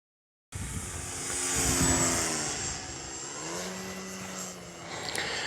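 An E-Flite Extra 300 radio-controlled aerobatic airplane flies past, its electric motor a steady, fairly loud whine with a rising and falling pitch as it manoeuvres, sustained for several seconds with no talking.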